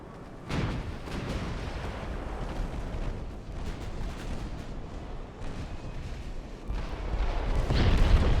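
Warship guns booming in Ultimate Admiral: Dreadnoughts, a rumbling barrage of deep low thuds rolling on continuously, growing heavier toward the end, with no voices.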